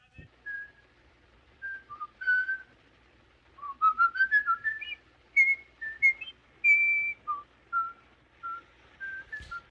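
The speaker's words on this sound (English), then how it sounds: "I'm mad that this dude just whistles too" A man whistles a short wandering tune, clear and close, in separate phrases with brief gaps, alone against near silence.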